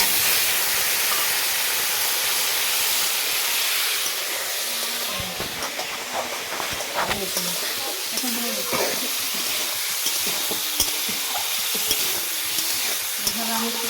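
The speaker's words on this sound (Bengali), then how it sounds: "এইভাবে আমি তেলটার সঙ্গে ভালো করে টমেটোটা ভেজে নেব।" Whole uncut tomatoes fry in hot oil with reddened five-spice (panch phoron) for tomato chutney, giving a steady, loud hiss with scattered spatters and stirring scrapes throughout.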